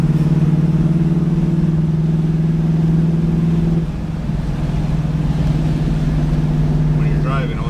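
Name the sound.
Firebird car engine on test drive at full throttle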